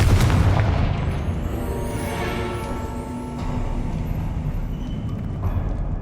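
Confringo explosive spell in the Hogwarts Legacy video game: a loud booming blast at the start fading into heavy, sustained rumbling game noise.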